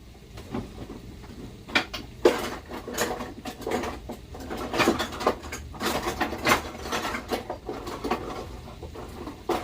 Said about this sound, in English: I'm going to get my knife out real quick.